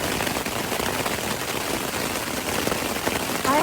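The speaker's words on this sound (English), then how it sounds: "Now it's hailing" Hail pounding hard during a monsoon-season thunderstorm in the mountains, a dense, steady roar of ice striking surfaces that stays loud and even throughout with no pauses.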